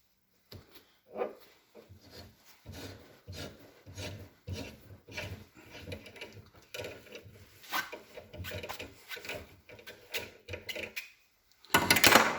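A hand tap cuts a thread into a metal brake caliper with a steady series of short scraping, rasping strokes, up close, then a louder rustle at the end; no one talks.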